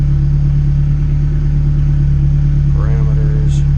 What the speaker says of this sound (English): I'm going to update my changes, and then we are going to do a dyno run.